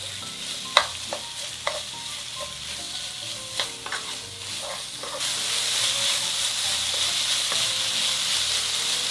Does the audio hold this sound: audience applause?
no